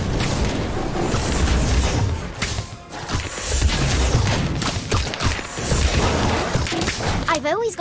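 An Incendio fire spell blasts in the Harry Potter Magic Awakened video game, a dense roaring burst with thuds and crackles that fills the whole stretch.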